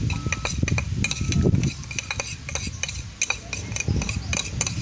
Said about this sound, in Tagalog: Hinalo na lahat ng kutsilyo.